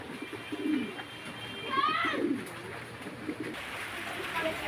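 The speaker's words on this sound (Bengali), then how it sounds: "এখানে আর এক জোড়া কবুতর আছে" Nearby domestic pigeons on a pigeon farm give soft, low cooing calls, with a brief rising whistle-like note in the middle and faint background noise.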